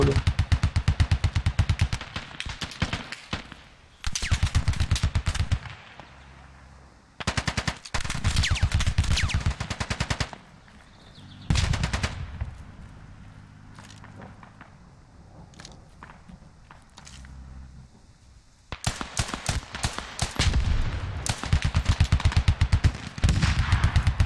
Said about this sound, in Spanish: hay, mucha artillería acá